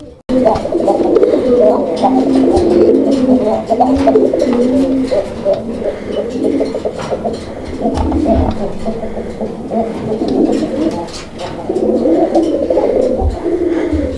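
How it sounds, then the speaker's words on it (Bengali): Raj-golla pigeons coo loudly and close by in throaty, rolling phrases that repeat throughout, with some voices and noise mixed in. "আপনারা কবুতরের ডাক দেখছেন"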